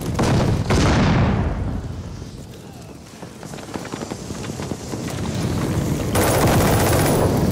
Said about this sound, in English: Wait, where am I getting shot from?